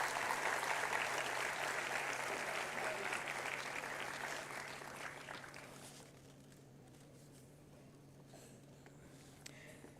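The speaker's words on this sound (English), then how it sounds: "A huge round of applause" Sustained audience applause at a university international conference during a felicitation with a memento, loud and dense for about six seconds, then fading to a thinner patter and quiet room tone.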